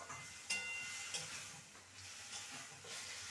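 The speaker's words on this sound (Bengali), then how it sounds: "ভালো করে মশলার সাথে মাছকে কষিয়ে নেব মিনিট পাঁচেক ধরে" Small fish fry with spices in a pan for a Bengali chorchori, giving a faint, steady sizzle with occasional stirring scrapes and clicks, without talk.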